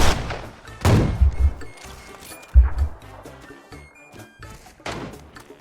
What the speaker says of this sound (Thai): นี่ไอ้บ้านมีเสียงปืนยิง